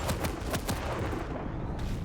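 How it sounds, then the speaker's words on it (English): Machine gun peppering from above in a Quake-style duel match, a rapid rattling burst of close, steady shots that runs the whole moment before cutting off. "Good machine gun actually peppering from above here"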